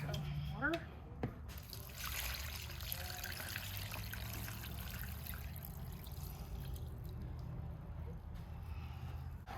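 Water pours and trickles steadily at moderate volume in an indoor setting, continuous for several seconds, with a few clinks and handling noises near the start and a voice talking over it.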